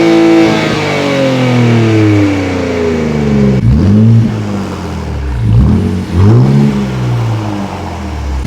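A Nissan 400Z with an upgraded aftermarket exhaust revs hard and accelerates, its rising engine note climbing through several gears with brief dips at each upshift, loud and close with no talk over it.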